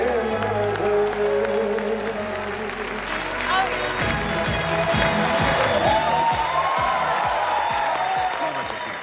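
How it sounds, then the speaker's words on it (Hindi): Studio audience applause and cheering welcoming an actress onto a comedy talk show, sustained clapping under music with a rhythmic beat. "आपकी जोरदार तालियों के बीच में स्वागत करना चाहूंगा कृति सैनन का,"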